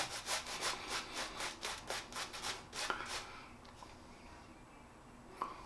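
A shaving brush paints Wickham Soap Co. 1912 Gothic Revival lather onto the face in quick, rhythmic bristly swishes, about a dozen strokes close up, before the scrubbing stops and a quieter stretch follows with a couple of soft clicks.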